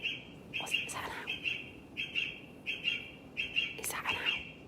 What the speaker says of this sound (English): That was an owl, wasn't it?